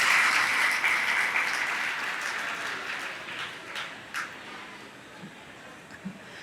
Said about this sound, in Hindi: एक बार अपने लिए ताली बना लो